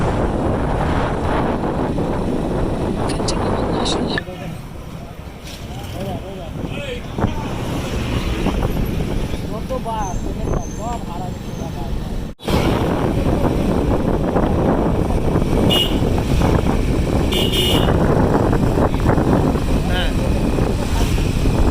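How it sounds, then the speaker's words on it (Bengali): Wind roars steadily over the microphone during a long-distance motorbike ride on the road toward Bakkhali and Gangasagar, a loud continuous rush with a brief dropout midway and voices talking underneath. "ভাই হাওয়া যা সুন্দর"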